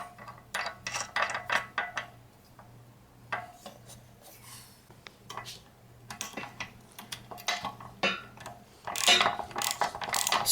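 A ratchet tightens a bolt and nut during assembly of a Gold's Gym XRS 20 home gym, giving bursts of rasping clicks and metallic scraping with pauses between strokes.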